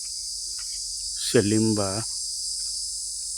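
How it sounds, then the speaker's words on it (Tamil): A rain beetle (cicada) calls from among trees after rain, a steady, shrill, high drone running unbroken through the whole stretch, with a short spoken word cutting in midway. "ஒரு மணி மழை வண்டு கத்துது பாருங்க"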